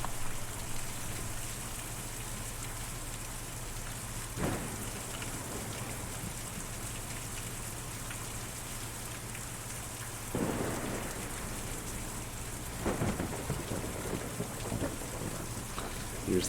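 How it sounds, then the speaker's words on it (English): Video game thunderstorm: steady heavy rain pours throughout, broken by several loud rumbling thunder cracks, with no voices. "Difficult to see or even hear a storm like that"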